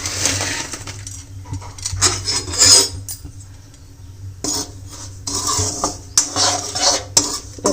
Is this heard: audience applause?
no